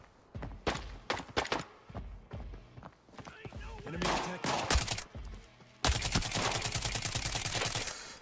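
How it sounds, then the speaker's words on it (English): Gunfire in the Arena Breakout shooter game, a flare gun among it, with sharp irregular bursts of shots, then a rapid continuous volley near the end. "My flare gun is ready to work."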